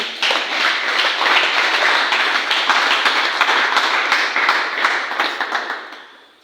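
Congregation applauding at a French-language church gathering, a dense, loud wash of many hands clapping together for several seconds before fading out.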